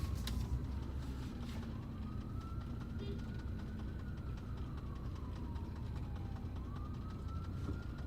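A distant emergency siren wails faintly, rising and falling, heard from inside a car idling in traffic under a steady low engine drone.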